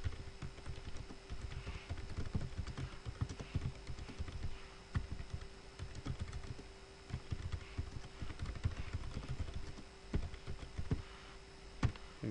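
Typing on a computer keyboard in a quiet office setting, a soft, fast, irregular clatter of key presses continuing throughout over a faint electrical hum.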